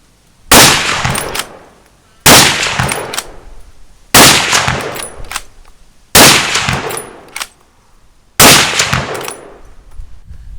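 A Haenel Jager NXT straight-pull rifle fires five .30-06 shots without a moderator. Each is a loud, sharp crack with a ringing tail, spaced about two seconds apart.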